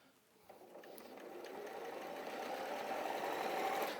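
Sewing machine stitching quilt fabric whirs in a fast, even buzz that starts softly and swells steadily louder over four seconds, close by and without talk.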